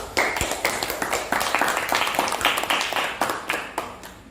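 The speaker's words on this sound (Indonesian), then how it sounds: "Kita tepuk tangan dulu." A small audience claps at a discussion session, with clustered, rhythmic hand claps in distinct bursts that stay fairly close and steady before tapering off.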